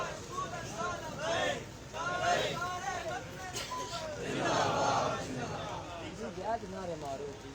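A crowd at a Milad Sharif gathering in Mandhal, Gujar Khan chants religious slogans in loud rhythmic unison, voices rising and falling in waves throughout.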